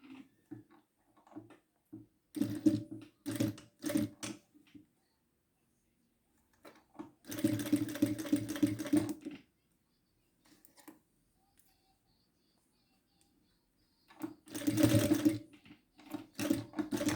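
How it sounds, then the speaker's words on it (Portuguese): Bursts of a sewing machine stitching a seam over overlapped cotton bias tape come in three separate runs of rapid, steady clatter, close and fairly quiet, with short pauses and handling noise between them. "Sobrepus e vou passar a minha costura bem aqui"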